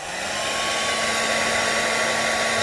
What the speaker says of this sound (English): Just got the hairdryer.